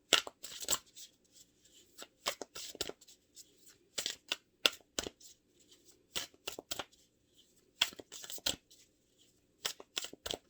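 Tarot cards being cut and shuffled at close range, crisp riffling bursts and flutters in short irregular runs separated by quiet gaps, with no talk.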